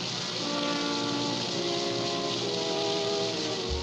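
Steady rain and storm noise in a film scene, a continuous hissing wash of falling rain at moderate level with no voices.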